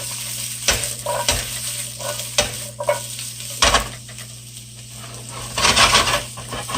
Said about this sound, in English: All right, we're just sauteing this here.